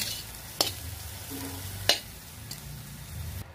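Onion and garlic frying in a pan while being stirred, a quiet steady sizzle broken by a couple of sharp utensil clacks against the pan.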